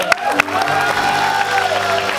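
A crowd claps and cheers loudly, with a few sharp whoops over the steady applause.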